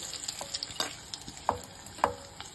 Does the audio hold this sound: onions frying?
yes